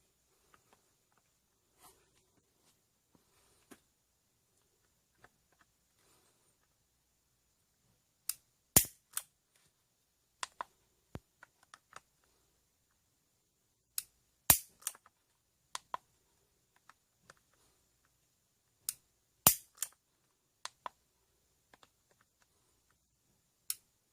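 A Ruger GP100 revolver is dry-fired repeatedly, producing sharp isolated clicks spaced a few seconds apart, with scattered fainter mechanical ticks in between against near silence.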